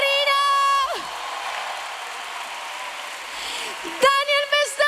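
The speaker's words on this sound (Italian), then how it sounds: "Vi chiedo un applauso enorme per la mia band" An arena concert crowd claps and cheers for the band in a broad, steady roar of applause, with sung or shouted voices ringing out at the start and again near the end.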